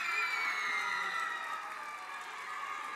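Gala audience applauding and cheering coordinators as their names are called: continuous crowd cheering and clapping with high-pitched shouts and whistles throughout.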